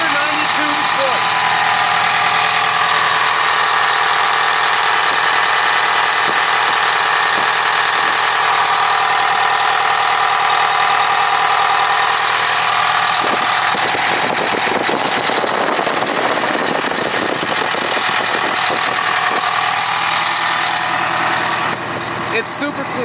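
A Pierce Javelin fire truck engine idles loudly and steadily up close with the hood open, a constant deep rumble with a rattling hiss that grows rougher midway.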